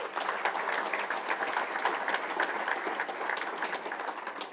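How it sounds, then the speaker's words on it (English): Audience applause at a university awards ceremony for student athletes, a steady, dense wash of many hands clapping throughout at even loudness, with no voices over it. "let's give them a round of applause for that"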